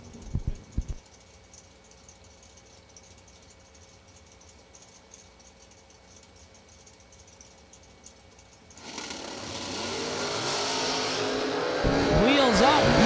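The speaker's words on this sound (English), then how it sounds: "Wheels up, 19 green for the win in the left-hand side for Mia" Drag race cars launch off the line at a season kick-off event: a quiet idle-filled stretch with a few early revs, then a loud roaring engine surge that builds and holds, with an announcer's voice talking over it.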